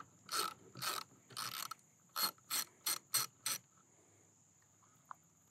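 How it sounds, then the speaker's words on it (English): A 7/16 wrench turns a bolt out of the top handle on a Jackson Knarr kayak, giving a run of about eight short ratcheting bursts, close and clear, then quiet. "take that 7/16 wrench and remove this top handle"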